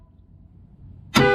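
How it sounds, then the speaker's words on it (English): A vehicle horn wired through an on-board air system with train horns bursts in suddenly and loudly after a near-silent stretch, a single blast sustained to the end with no talk over it. "now when we honk the horn, we should hear a click."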